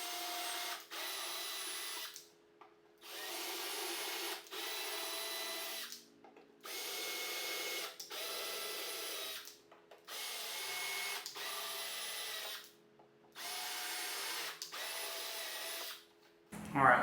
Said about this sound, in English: So I'll go ahead and pre-drill all of these, or drill them again